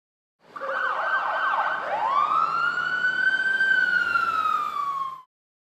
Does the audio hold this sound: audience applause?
no